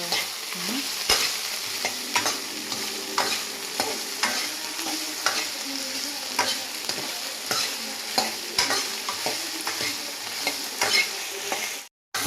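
Okra fries in a pan for tamarind kuzhambu, a continuous close sizzle broken by regular spatula scrapes and stirs that stops abruptly at the end.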